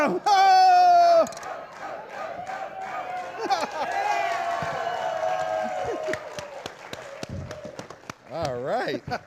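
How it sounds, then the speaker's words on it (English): Studio audience on a late-night talk show cheering and whooping, a crowd of voices rising loud at first, then a sustained excited hubbub with scattered shouts and a final burst of cheers near the end. "And maybe the audience can cheer us A little"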